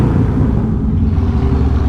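Harley-Davidson Softail Deluxe with Vance and Hines exhaust revving inside a tunnel, a loud, dense, low throaty roar that holds steady through the short stretch.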